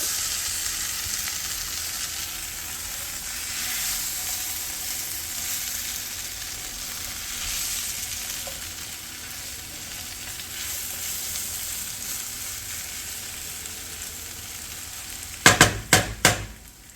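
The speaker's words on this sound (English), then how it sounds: "And then I'm just going to stir all that up." Crawfish étouffée is stirred in a pot, giving a steady close sizzle and soft scraping for most of the stretch, then ending in a short burst of sharp metallic clanks.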